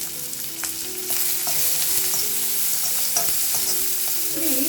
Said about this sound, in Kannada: ಇವಾಗ ಇದ್ರ ಒಳಗಡೆ ನಾವು ಸಣ್ಣದಾಗಿ ಕಟ್ ಮಾಡಿಕೊಂಡಿರೋಂಥ ಈರುಳ್ಳಿನ ಹಾಕೊಳ್ಳೋಣ.